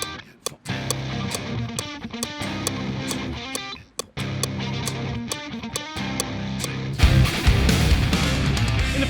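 Guitar playing a verse with a repeating ostinato figure, dense and loud with brief gaps, then a heavier full strummed section near the end; no talking.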